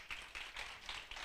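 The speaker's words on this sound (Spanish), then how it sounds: "Aplauda al Señor, por favor." Church congregation claps in rhythm during a Spanish-language worship service, a few faint, evenly spaced claps in a brief burst.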